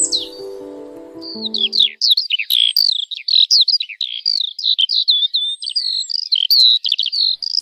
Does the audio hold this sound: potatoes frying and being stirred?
no